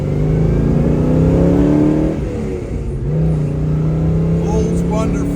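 A 1970 Chevrolet Chevelle with a 396 V8 and a 4-speed manual accelerating hard on the road, its loud engine note climbing through the gears, dipping briefly at a shift, then pulling strongly again, heard close from inside the car.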